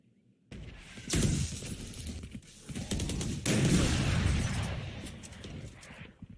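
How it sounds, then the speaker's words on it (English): Operator sniper rifle shots traded in a Valorant pro match on the Bind-style A site, several sharp loud cracks with ringing tails over a busy game mix, a short silence before the first. "Couple of dueling operator shots go through one."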